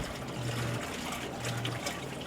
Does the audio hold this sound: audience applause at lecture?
no